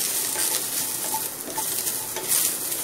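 Ginger, six cloves of garlic and vegetables sauté in a pan for a vegetable kurma. A steady, close sizzle runs throughout, with light stirring scrapes and no talking.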